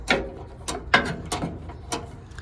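A handful of crisp mechanical clicks sound at irregular intervals, close and fairly quiet, from the gear linkage of a vintage Dayton lawn tractor with an 11.5 HP Briggs engine.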